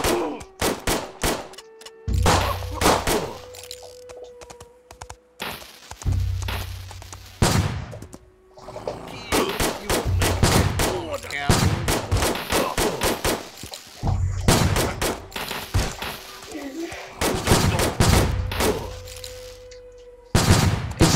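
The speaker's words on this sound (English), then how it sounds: "It seems that you're shooting them, but they're not dying." Western-style gunfire in the video game Hopalong: The Badlands comes as dense, loud bursts of repeated shots with brief pauses between volleys, alongside clattering game effects over about twenty seconds.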